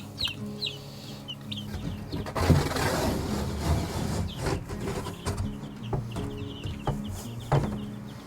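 Baby chicks in a brooder peep and cluck, with a few bright high chirps over soft rustling and scratching bedding, close by, fairly faint, and without talk.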